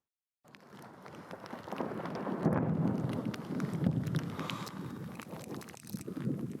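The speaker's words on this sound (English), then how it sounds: "That's thunder." Distant thunder rolls during the rainy season, a low, continuous rumble that swells and lingers for several seconds, faint overall with rain and wind noise blended in.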